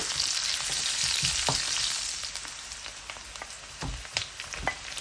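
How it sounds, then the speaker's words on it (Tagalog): Garlic and ginger sautéing in a pan, a bright steady sizzle with scattered crackles and a few louder pops and stirring knocks, heard close with no voices. "Sinod natin ang ating bawang. Tapos yung ating ginger o yung luya."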